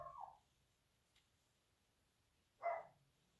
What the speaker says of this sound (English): Sorry if you can hear my dog barking again.